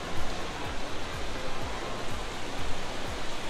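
Water flowing inside Gupteshwor Mahadev cave in Pokhara, a constant dense rushing roar with a low rumble underneath, steady and close throughout.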